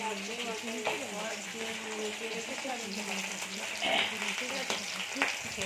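Food fries in a pan for a home-cooked biryani, making a constant sizzle with stirring scrapes, while faint voices murmur in the background.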